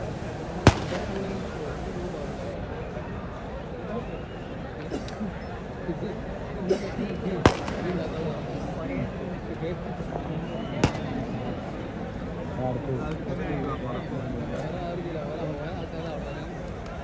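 Fireworks at the Nenmara Vallanghy Vela temple festival, a steady rumble of distant bursts with a few sharp cracks standing out, under constant crowd chatter.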